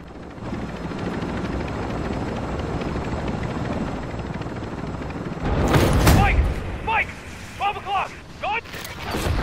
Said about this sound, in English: I'm in the chopper by myself